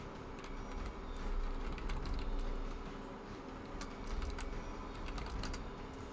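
Typing on a computer keyboard, a steady stream of soft clicking keystrokes close up and quiet over a low background hum.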